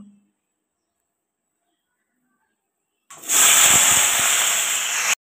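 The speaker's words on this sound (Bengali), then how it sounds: "এখন আমি আলুগুলোকে ভাজা করে নেব।" Potatoes dropped into hot oil in a wok burst into a loud, sudden sizzle after about three seconds of silence, then hiss steadily and close up to the end.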